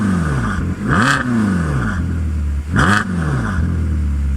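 With its exhaust valve open, a Ferrari California is revved twice in quick blips, each rising and falling in pitch over a steady idling burble, loud and close.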